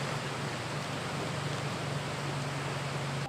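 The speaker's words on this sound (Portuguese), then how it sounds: "Aos pouquinhos, reabastecemos com água do degelo." Meltwater runs steadily through a funnel into a water tank, a dense continuous rushing hiss with a low hum beneath, close and loud, with no voices.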